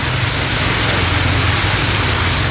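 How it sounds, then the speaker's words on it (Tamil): Heavy northeast monsoon rain pours down steadily in Tiruvarur district, Tamil Nadu, a dense, continuous hiss with a low rumble beneath it and no gaps or voices. "திருவாரூர் மாவட்டத்தில் 2வது நாளாக கனமழை பெய்தது."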